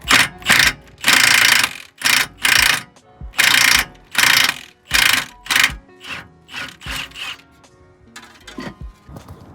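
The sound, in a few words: impact gun loosening a BMW tie rod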